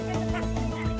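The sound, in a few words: ducks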